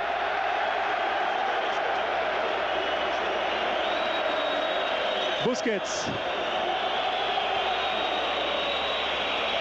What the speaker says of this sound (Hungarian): megjön a közönség hangja